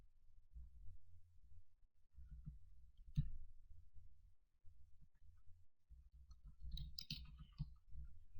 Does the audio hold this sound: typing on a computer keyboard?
yes